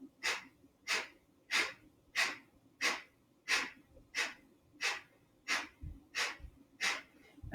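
Rapid belly-pumping yoga breathing: about a dozen forceful, evenly spaced exhalations in a steady quick rhythm, close and clear against a quiet room, with no talking.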